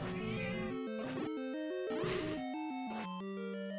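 In the Legend of Zelda video game, a cat meows as a run of clear, pitched tones that step up and down in quick succession, alone and fairly prominent.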